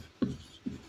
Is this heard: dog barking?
no